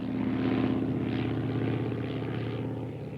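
A propeller plane flying over wilderness in strong headwinds and poor visibility, a steady loud droning engine hum with a pulsing propeller beat, no talk.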